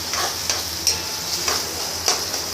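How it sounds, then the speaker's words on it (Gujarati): Chopped onions sizzle in hot oil in a pan for a leftover-roti Maggie-style dish, with a steady frying hiss and several sharp spoon-stirring scrapes at regular intervals, close and alone. "એકદમ ડુંગળી મસ્ત ચડી જાય ને ત્યાં સુધી આપણે એમને ચડવા દેવાની છે"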